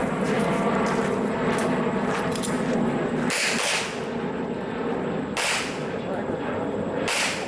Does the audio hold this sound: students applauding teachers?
no